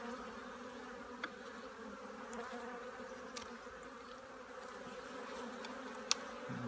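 Honey bees hum steadily in an open hive during an inspection, a low continuous drone with a few faint clicks and knocks, fairly quiet and without voices.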